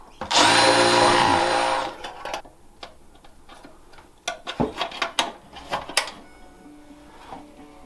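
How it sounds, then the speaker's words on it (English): A power drill whirs loudly for under two seconds drilling a hole in a guitar, then stops, followed by a series of sharp ticks and clicks from handling the work. "Drill a hole."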